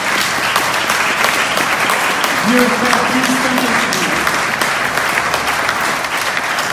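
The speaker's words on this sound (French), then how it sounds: "On pourrait applaudir la Trinité." Church congregation applauding with steady, dense clapping throughout, while a voice speaks briefly over it in the middle.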